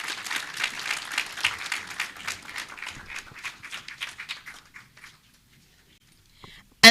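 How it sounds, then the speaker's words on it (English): Scattered clapping rises from a graduation ceremony audience as a dignitary walks up to speak, moderately loud at first, then thinning and fading out over about five seconds before near silence and a sharp knock at the end. "Please give her a clap as she comes."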